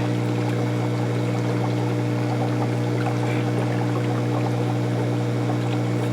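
Water trickling and dripping from the outlet of a Geo's Reef calcium reactor on a cylinder reef aquarium, a steady close pouring flow over a constant pump hum.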